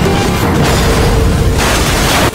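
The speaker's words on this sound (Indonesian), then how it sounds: "Lalu mobil itu pun terbalik beberapa kali dan disusul oleh ledakan besar." A car crash and big explosion after the vehicle rolls over several times, a loud, dense burst of roaring noise sustained throughout and cutting off abruptly at the end.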